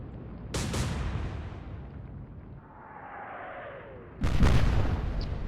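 Naval guns in the Atlantic Fleet video game fire a blind shot: two loud booming blasts about four seconds apart, each with a sharp crack and rumbling tail, and a whistling shell sound between them.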